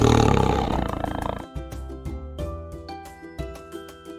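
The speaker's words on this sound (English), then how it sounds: "T for tiger, and how it sounds." A tiger lets out a deep, loud roar for about a second and a half, layered over background music that carries on alone afterward.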